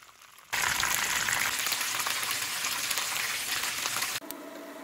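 Lumpiang Shanghai, beef spring rolls, dropped into hot oil: a sudden loud sizzle starts and holds as steady crackling bubbling for several seconds, then drops away abruptly to a quieter hiss.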